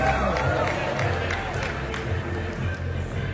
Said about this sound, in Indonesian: boleh tepuk tangannya Bapak Ibu hadirin sekalian